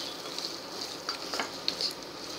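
A pan of eggplant bharit mixture with green coriander is stirred and sautéed, giving a soft low sizzle broken by light scraping and clinks of the spoon against the pan.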